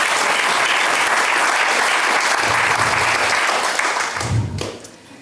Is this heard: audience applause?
yes